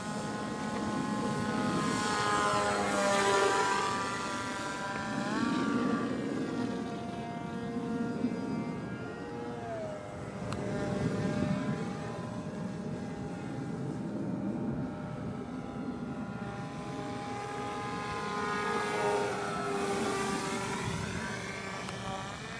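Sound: homemade TLAR v2 drone flying with a bigger motor

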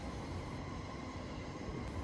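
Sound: Yamanote Line and Keihin Tohoku Line trains passing in Akihabara

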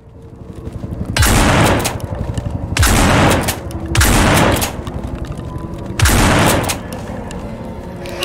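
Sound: gunfire from a gun in a video game

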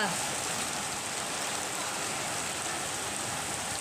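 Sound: heavy rain

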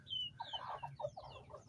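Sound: chicks and roosters clucking

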